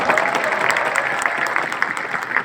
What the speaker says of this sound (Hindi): पुरुष ताली बजा रहे हैं